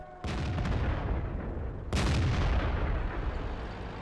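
Artillery fire in World of Tanks: two heavy booming gunshots, the first near the start and the second about two seconds later, each followed by a long loud rumbling decay, with no talking.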